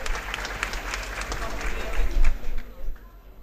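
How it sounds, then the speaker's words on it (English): Applause breaks out at the World Jigsaw Puzzle Championship, a crowd clapping in uneven bursts that swell near the middle and then fade, with a commentator talking over it. "as these finishes start rolling in and you hear that applause"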